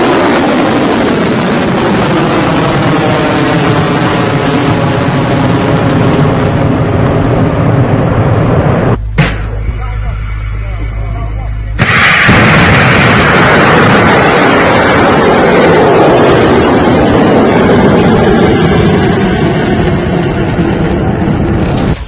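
Missile launches and explosions from strikes in Yemen, heard as a loud, continuous roaring rumble that breaks off abruptly for a few seconds into a low steady drone, then surges back just as loud.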